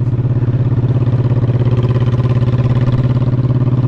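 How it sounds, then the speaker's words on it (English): Steady motorcycle engine throbbing with an even, pulsing rhythm while riding along a country road past an old farmhouse, loud and close throughout with no talking. "Riding a motorcycle keeps me limber."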